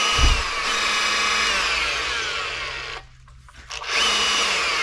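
A cordless power saw runs steadily up close with a high, whining motor tone. Near the end it drops out briefly, then comes back up to full speed.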